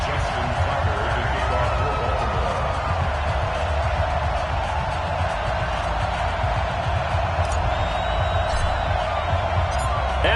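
A stadium crowd roars in an EA Sports NFL football game before the Pittsburgh Steelers meet the Baltimore Ravens, a steady loud wash of cheering with a voice speaking over it.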